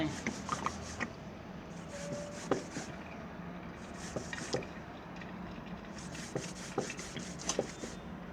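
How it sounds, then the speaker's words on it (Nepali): Lemon pieces rubbed by hand in water in a bowl for lemon pickle, giving repeated wet, scraping strokes in irregular bursts, close up and fairly quiet. "पानी मजाले तयाउने अनि अब घोट्ने"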